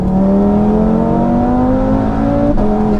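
A 740bhp Audi RS3 engine under throttle, loud and close, its tone rising steadily as it revs, then a brief dip near the end, with no talking.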